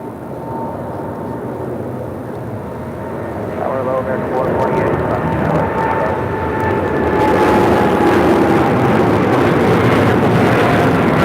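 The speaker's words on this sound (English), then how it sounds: "Aerologic 777 heading to Frankfurt. The all DHL livery now rolling down 25 left." An AeroLogic Boeing 777 freighter in all-DHL livery rolling down runway 25 left at LAX, jet engine roar swelling steadily from a distant rumble to a loud, broad, sustained thunder.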